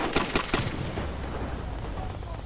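Heavy .50 cal machine gun fire in a World at War battle, a few rapid loud bursts up front that give way to a rumbling wash of distant combat noise.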